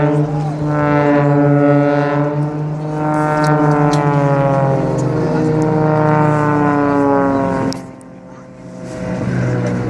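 A propeller aerobatic display aircraft from a formation team roars steadily overhead at a Scottish air show, its loud droning engine tone shifting in pitch as it passes, briefly dipping before swelling again, with commentary faintly present.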